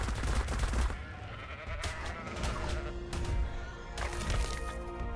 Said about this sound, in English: Lucky for me, I found some sheep right here.